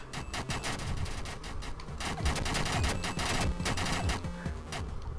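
Rapid video game gunfire, dense overlapping bursts of automatic shots crackling continuously at steady loudness, like a sustained firefight.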